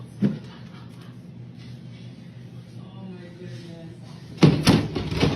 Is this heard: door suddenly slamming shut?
yes